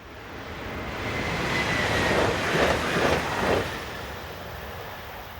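SNCF electric multiple unit Z27525 passes heading north, a broad rushing roar that builds, peaks midway with wheel and rail rumble, then fades as the train moves off, heard from trackside with no voices.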